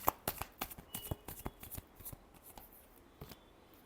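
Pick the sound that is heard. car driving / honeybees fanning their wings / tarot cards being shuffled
tarot cards being shuffled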